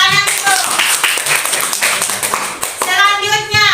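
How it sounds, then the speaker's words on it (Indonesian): Children clap their hands together in a classroom, a quick run of close, sharp claps, with children's voices talking over the start and the end. "Ya, tepuk tangan itu."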